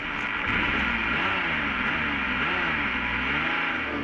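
A 1995 Ferrari F50 drones steadily while driving, its engine a continuous, even roar heard from on board, with faint rising and falling pitch and no talking.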